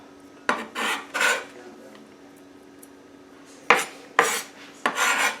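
Minced garlic scraped off a utensil into a bowl makes bursts of clinking, rasping metal-on-dish scrapes, a few close strokes early, a pause, then several more.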